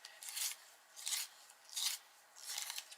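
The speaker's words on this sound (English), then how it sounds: "I'm just sharpening my yellow." Rhythmic rasping strokes of a light chrome yellow colored pencil being sharpened, four bursts of scraping about a second apart, close and fairly quiet with no talking.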